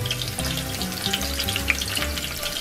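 Star anise stir-frying in a hot wok, giving a steady, dense sizzle with faint scraping, close and continuous, and no voices.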